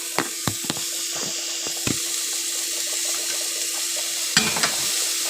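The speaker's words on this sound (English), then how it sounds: "So yeah, then you just mix it." Food frying in a pan is stirred, with a steady bright sizzle throughout and several sharp scrapes and knocks of the utensil against the pan. No one speaks.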